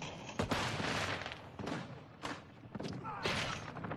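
Rapid bursts of video game gunfire as players shoot at bots, loud overlapping volleys of shots and thuds in several clusters with short pauses between.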